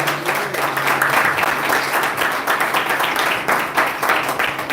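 A church congregation breaks into applause, with dense, sustained clapping from many hands that stays fairly loud and even for the whole stretch.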